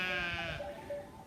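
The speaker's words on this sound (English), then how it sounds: "sheep are moaning again" Sheep bleat in a drawn-out, wavering call close by at a vegetable garden, fading into softer moaning with a faint rustle of the outdoors underneath.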